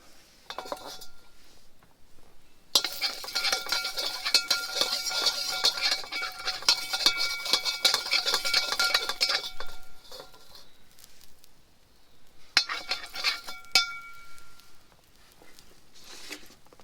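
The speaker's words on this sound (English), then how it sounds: "Wok back on the heat, a little bit more oil." Metal wok being handled over heat at a rainy bushcraft camp, with clinking, scraping and rattling of metal on metal in bursts, fairly close, mixed with patter of rain.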